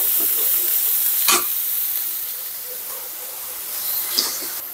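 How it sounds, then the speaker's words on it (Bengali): Vegetables stir-frying in a pan on a hot day, with a continuous bright sizzle and hiss and a couple of sharp scrapes from the stirring utensil, and no talking. "আজকে আমি ভাজি করলাম, কিন্তু প্রচন্ড গরমের মধ্যে রান্না করা কঠিন।"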